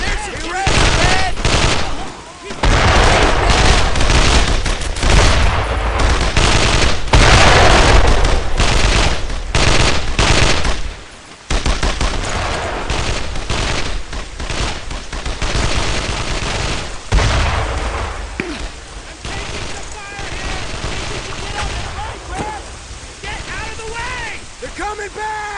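Sustained machine-gun fire and rapid rifle bursts from a World War II shooter, Brothers in Arms 2, loud and dense for nearly the whole stretch, with shouted voices mixed in and a brief lull near the middle.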